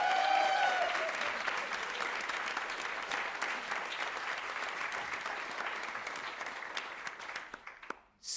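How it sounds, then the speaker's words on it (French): Thunderous applause from a press-conference audience at the Cannes Film Festival, dense steady clapping that fills the room before fading and cutting off near the end. "Attention, un tonnerre d'applaudissements pour Milo Machado Graner."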